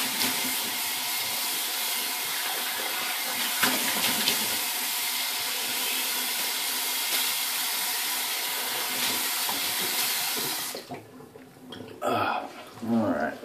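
Water running steadily from a tap for rinsing off after a shave, a loud continuous close hiss lasting about eleven seconds before it stops, followed by a few splashes and handling noises.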